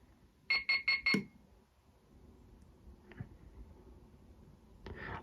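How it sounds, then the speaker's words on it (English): Four quick electronic beeps in a fast even burst from a talking alarm clock's button as it steps through times, then a couple of soft clicks and a short rustle in a quiet room. "it moves through the times a bit quicker and just beeps"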